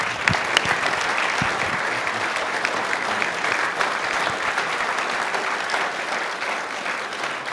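An audience at a homelessness summit panel applauds in a steady, dense wash of clapping that holds at an even level for several seconds.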